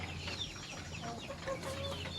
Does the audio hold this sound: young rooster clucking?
yes